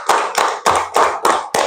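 Six sharp, evenly spaced bursts of hand clapping from a classroom of children, loud and close, falling in a steady rhythmic count without any talking.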